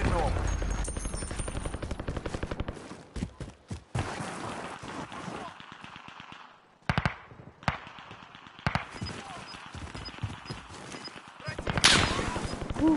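Gunfire in an online battle-royale video game, bursts of rapid shots and scattered single cracks over game noise, with a player talking throughout.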